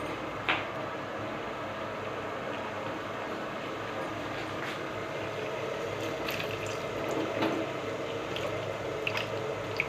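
Water is added to a cooking pot of prawn and potato curry, a steady wet rushing and bubbling with a few sharp drips and splashes.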